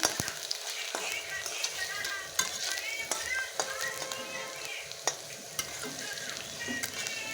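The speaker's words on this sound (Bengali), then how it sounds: "আলুটা ভাজা হয়ে গেছে" Thin slices of potato fry in a pan of oil for a lochar recipe, giving a steady, close sizzle with scattered scraping and stirring clicks throughout.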